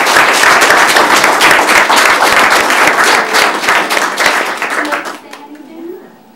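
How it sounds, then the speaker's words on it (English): Attendees at a city council meeting give a loud round of applause, many hands clapping in a dense wash that fades out after about five seconds, leaving quiet room sound and a faint voice. "So let's give a round of applause."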